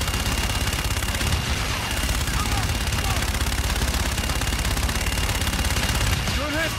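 Sustained automatic gunfire and fire-support barrages rattle nonstop in a Call of Duty Infinite Warfare battle, dense and loud throughout, with occasional radio chatter underneath.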